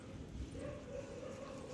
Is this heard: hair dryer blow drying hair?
no